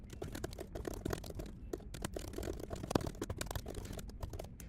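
Rapid typing on a computer keyboard, with dense, close clicking keystrokes in an uneven, continuous rhythm throughout.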